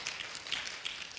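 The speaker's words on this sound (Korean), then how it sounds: "큰 박수로 환영해 주시기 바랍니다." Faint, distant applause from an audience welcoming a speaker at a Korea University graduate school of international studies admissions session, a soft steady patter of clapping with no voices over it.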